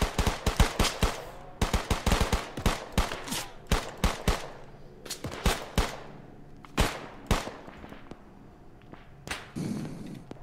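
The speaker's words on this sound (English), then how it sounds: "Open fire!" Bursts of gunfire in a war video game: rapid, loud overlapping shots in dense volleys, thinning into scattered single cracks with short gaps, then a final flurry.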